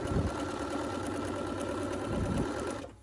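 A home sewing machine stitches pillowcase fabric in a steady, fast mechanical whir with a rapid needle chatter, running continuously and stopping abruptly near the end.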